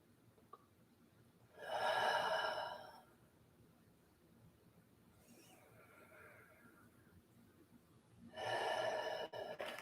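Deep breaths during a yoga class: two long, airy inhales or exhales about seven seconds apart, with a softer breath between them, close and clear against a quiet room.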